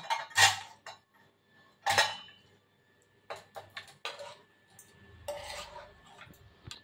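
Paneer mixture scraped from a pan into a metal tiffin box, giving sharp metallic clinks and scrapes of a spoon against steel in a few separate bursts, close and fairly loud, with quieter tapping between them.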